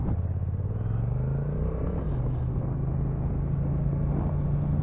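Honda NT1100 DCT motorcycle cruising at a steady, constant throttle around 40 mph, a continuous close engine drone with a slight pitch rise early on, then holding level with road and wind rumble and no talk.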